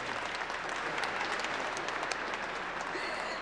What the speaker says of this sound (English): Let's give one more round of applause for our Principal of the Year Award recipients, JoLynn.